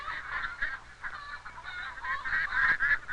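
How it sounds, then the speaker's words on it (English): A pet duck entered in a country fair poultry exhibit honks repeatedly in a loud, nasal, continuous stream of calls, close by, with no talking. "It was their pet duck that they had entered in the fair."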